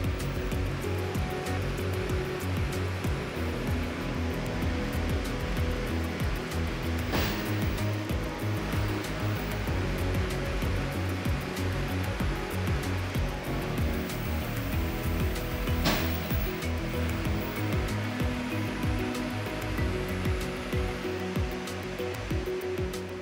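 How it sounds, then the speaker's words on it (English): Steady loud drone of a tractor engine and hydraulic system running a RhinoAg 4125 rotary cutter as it is raised and lowered, continuous and rumbling, with two brief sharper bursts along the way. "we're going to raise and lower the cutter 3 times to rephase the hydraulic system and circulate all the hydraulic oil."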